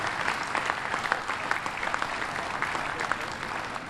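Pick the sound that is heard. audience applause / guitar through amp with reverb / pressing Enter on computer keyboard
audience applause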